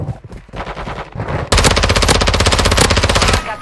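Rapid bursts of automatic gunfire in a video game, starting with a shorter volley and then swelling into a loud, sustained stream of machine-gun fire that cuts off near the end.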